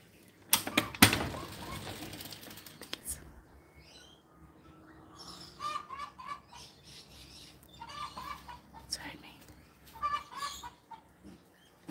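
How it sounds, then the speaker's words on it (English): Hens cluck and call intermittently in a backyard coop, with louder bursts near the start and scattered clucking through the rest, fairly close. "You hear the chickens in a minute."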